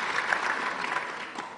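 A council meeting audience applauds after an oath of office, a brief burst of dense clapping from many hands.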